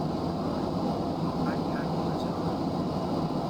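Concorde jet engines in the X-Plane 11 flight simulator video game produce a steady broadband roar without pause, with power being fed in at low altitude.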